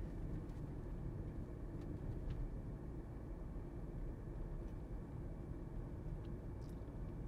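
Steady low road rumble inside a car cabin cruising at 50 km/h over a cemented tarmac patch, a dense, even drone that holds at a constant level throughout with no talking.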